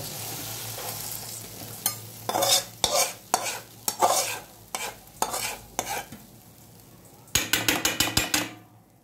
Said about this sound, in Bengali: সব মশলা একসাথে মিক্স করা।